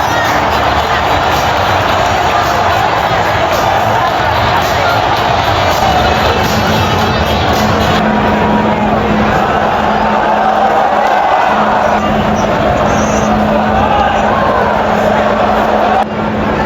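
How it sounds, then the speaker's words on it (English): Large matchday football crowd at an Arsenal versus Newcastle United friendly in Singapore, a steady dense roar of cheering and chatter that fills the whole clip with no pauses. "The matchday crowd was definitely more enthusiastic than on Wednesday."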